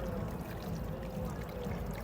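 Water poured over the scalp during a K-Headspa head spa treatment at an expo demonstration, a soft continuous splashing pour, fairly quiet and steady for the whole stretch.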